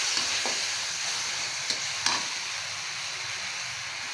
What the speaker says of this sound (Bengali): এখানে পেঁয়াজটা আমার ব্রাউন কালার করে ভাজা হয়ে গেছে এখন আমি দিয়ে দিলাম রসুনের পেস্ট